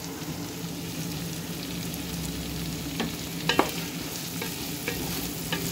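Onions stirred and sautéed in a hot pan for beef pinapaitan, a steady close sizzle with a few scraping stirs of the utensil.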